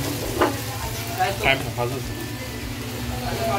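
Garlic frying in a pan for a restaurant-style Schezwan chutney, a soft steady sizzle with a few stirring scrapes, heard under a person talking in Marathi.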